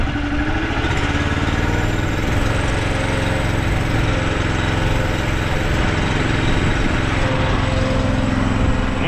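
Small engine powering the hydraulics of a ProTainer 16k rolloff trailer runs steadily and loudly at close range, throttled up to a constant drone.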